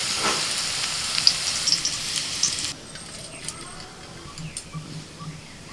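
Vegetables for fried rice fry lightly in a pan, a steady close sizzle that is loud at first, then drops to a softer crackle with small pops.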